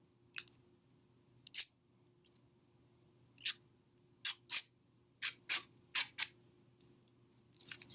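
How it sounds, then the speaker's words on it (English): Paper is drawn along a scissors edge to curl it, giving a quiet series of separate short scraping swishes, several in quick succession near the end, in an otherwise silent room. "you're going to take your paper and run it along the edge of the scissors."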